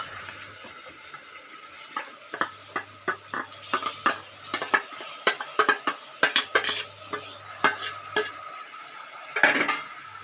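Washed dal and rice are stirred in a pot for masala kichdi, giving a run of quick, close scraping and clinking strokes in uneven bursts over a faint low hum.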